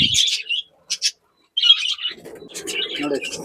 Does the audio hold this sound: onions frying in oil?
no